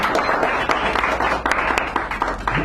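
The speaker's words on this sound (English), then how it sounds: "Give Al a round of applause." Cafe audience at a poetry reading applauding a poet, close, moderately loud clapping with distinct individual claps throughout.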